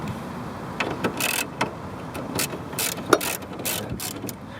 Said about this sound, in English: Now I have a 7mm on an extension, and then there's a bolt here and a bolt here, and that's going to get this cover loose.